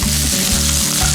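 Finely chopped food sizzling in a hot frying pan while a tenderloin steak dish is cooked, a loud, close, steady crackle with tossing in the pan and no talking.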